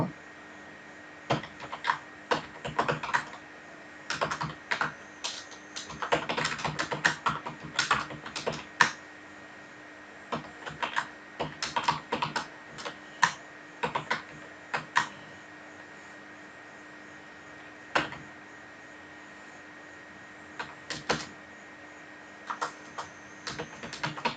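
A computer keyboard is typed on steadily for a cover letter, with quick clusters of close key clicks and short pauses in between. The typing runs throughout and no voices are heard.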